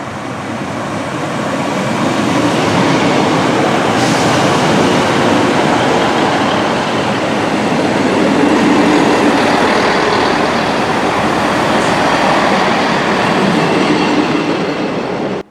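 A train pulls out of Wrexham General station, its steady loud rumble and rolling rail noise filling the scene from start to finish with faint clicks over the top, and no voices.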